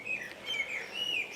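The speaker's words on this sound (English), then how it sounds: "I can hear the birds singing" Bright, high bird chirps and warbling phrases, close and clear, repeating over a quiet background.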